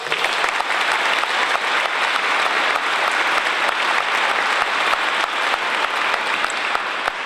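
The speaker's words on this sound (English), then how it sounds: "So let's give those guys a round of applause." An indoor audience at an air show breakfast gives a round of applause, a dense, steady clapping that carries on loud and unbroken throughout.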